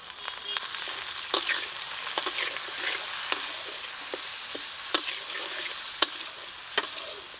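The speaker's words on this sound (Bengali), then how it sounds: "এখন মশলাটাকে ভালো করে কষিয়ে নেব" A Bengali masala of Kashmiri chilli powder, turmeric, salt and a little water sautés in a pan for chicken with a constant sizzle. Sharp spatula taps and scrapes break through at irregular intervals.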